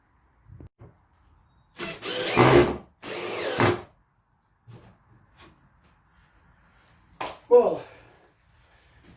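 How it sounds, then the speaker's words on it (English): A cordless power drill whirs in two short close bursts to pre-drill holes in a solar panel frame, followed by quieter handling knocks and a few soft scraping sounds. "I'm going to try and get that solar panel pre-drilled and get the brackets on it"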